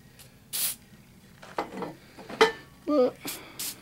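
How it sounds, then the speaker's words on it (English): Several short hissing sprays from an aerosol can of silicone spray, spaced irregularly, with faint handling noises and a brief squeak between them, during a U-joint change. "silicone spray"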